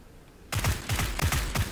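Video game gunfire from an online shooter, a burst of several close, sharp shots in quick irregular succession after a short quiet pause.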